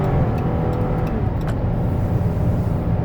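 A 2014 Dodge Caravan SXT wheelchair mobility van's engine runs steadily while driving, a continuous low rumble with road noise from inside the cabin, fairly loud and with no talk.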